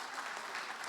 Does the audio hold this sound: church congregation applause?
yes